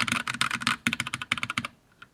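Rapid typing on a mechanical keyboard fitted with Gateron brown tactile switches, dense clacking keystrokes close up, thinning out and stopping near the end.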